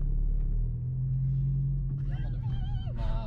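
A Volkswagen Scirocco engine burbles through its exhaust, a steady low rumble heard from close by with brief whistling or squealing tones rising over it near the end.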